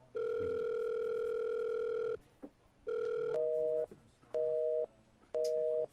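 Telephone tones after a call is cut off: a long steady tone breaks off, then a short run of repeated beeping pulses at an even rhythm, clear and close.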